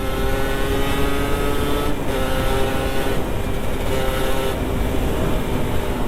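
A standard two-stroke motorcycle revs under acceleration at a riders' meetup, a loud, continuous buzzing drone close by that holds steady with slight dips.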